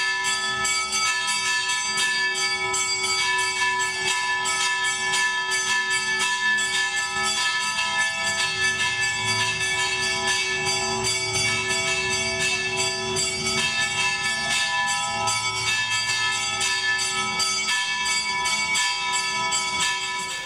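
Afro-Brazilian church bell ringing, one bell striking a steady marking beat while another plays freer improvised strokes over it, loud and continuous with a dense metallic ring throughout, no talking.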